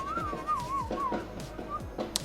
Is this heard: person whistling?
yes